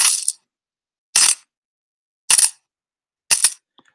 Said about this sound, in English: So dropping coins, that one can work for me.